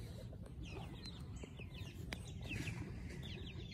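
A hen clucks softly among a brood of chicks peeping nearby, short scattered calls over a low rumbling background, faint and fairly distant.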